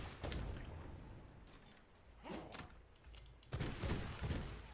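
Bursts of rapid gunfire crackle from a video game firefight, loud and close, in two clusters with a quieter stretch between.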